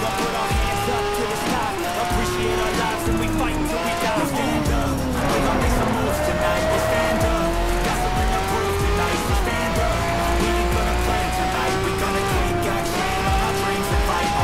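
A race car laps a circuit in Need for Speed Shift, its engine loud and close, rising and falling through gear changes with brief tire squeals, while a voice talks over it.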